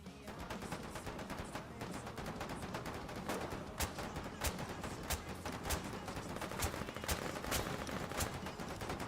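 Rapid gunfire in the war game Foxhole, a dense stream of distant machine-gun bursts and fusillades crackling continuously, with sharper nearer shots standing out every second or so.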